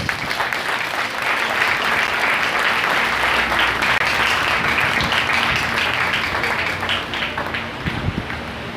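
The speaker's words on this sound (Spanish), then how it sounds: "vamos a dar un aplauso aplauso al Señor por eso" A Sunday church congregation applauds during worship, steady full-room clapping that continues evenly throughout with no break and no talk over it.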